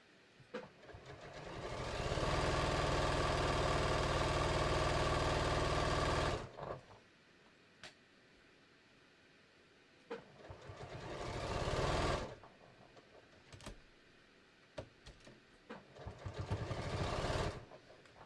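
A sewing machine stitches the center front seam of a pair of shorts: one long steady run of rapid stitching, then a pause and several shorter bursts, loud and close with no talking.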